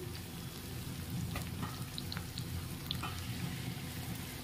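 Onions and masala paste fry in a pan, giving a low steady sizzle with scattered bubbling pops and faint clinks, close and fairly quiet throughout.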